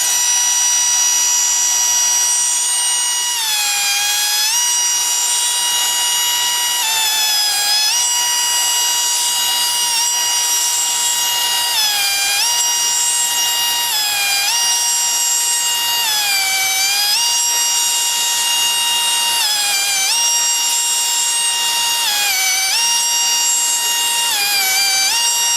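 A Dotco air tool with a 15,000 chamfer attachment cuts along the edge of a sharp-edged metal block. Its loud, steady high-pitched whine dips in pitch again and again as the cutter loads up, with no voices.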